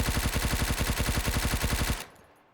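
Rapid automatic gunfire from a weapon in the video game Road to Vostok, a steady loud burst of evenly spaced shots lasting about two seconds, then cutting off into a short decaying echo.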